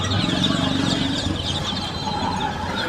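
Chickens and ducks at a rural poultry market in Bangladesh cluck and chatter in a dense, continuous flock, close and busy with crowd noise blended beneath.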